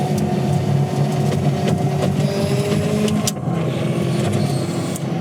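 A Czinger V Max sports car engine running loud and close, a steady throaty drone with faint shifts in pitch.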